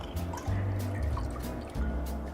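Seasoned cooking water drips and trickles steadily as a whole chicken is lifted out of a Dutch oven, close and continuous with no talking.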